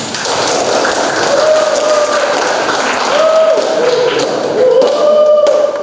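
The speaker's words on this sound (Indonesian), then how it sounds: "kita berikan aplaus bersama untuk kelas ini" A classroom at a vocational school bursts into steady group clapping that fills the room, dense and loud for several seconds, with a tonal hum or voice running underneath.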